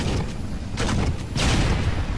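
Mounted gun on a Falcon helicopter firing in Halo Reach, a dense, steady barrage of heavy shots with booming bursts around the middle and end, loud and continuous with no talking.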